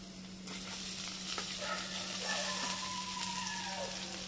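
Two chopped medium onions fry in a pan with a steady, even sizzle that continues throughout, fairly quiet and close, with faint occasional stirring.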